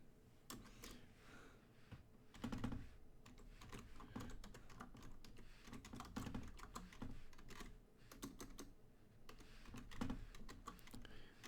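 Typing on a computer keyboard to jot down a note, a steady run of close, quiet key clicks in uneven bursts with short pauses.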